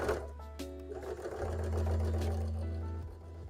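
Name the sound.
sewing machine sewing horns on a Gengar hat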